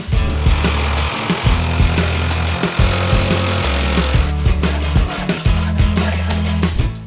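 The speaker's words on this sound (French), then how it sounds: "utilise la scie sauteuse et de préférence une lame avec un dos étroit" A jigsaw with a narrow-backed blade buzzes through wood close by in repeated bursts, cutting curves, its motor droning and stuttering as the cut starts and stops.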